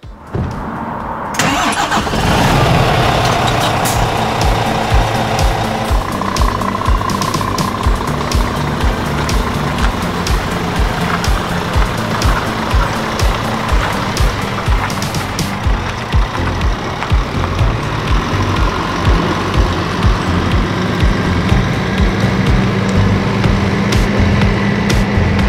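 A Scania R450 New Generation truck cranks and starts, then its engine runs close and loud with rhythmic pulsing and small rev changes as it moves off toward a trailer, no voices heard.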